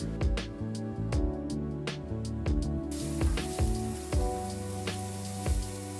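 Minced garlic and onions sizzle in hot olive oil in a pan, a steady crackling hiss with scattered pops and a clatter of stirring close up.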